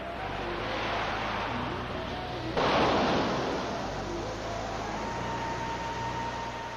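Ocean surf washing steadily onto a beach at night in a 1973 horror film, a broad continuous roar that swells suddenly as a bigger wave breaks, then settles back into a constant rushing wash.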